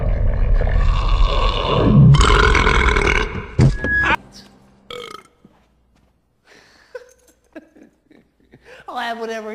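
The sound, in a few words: loud burp snort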